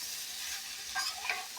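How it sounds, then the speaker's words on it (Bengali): Cauliflower sautés in a pan with a soft, steady sizzle. Two brief stirring scrapes come near the end, with no voices. "এইরকমভাবে কষিয়ে এটাকে অনেকক্ষণ ধরে কষাতে হবে।"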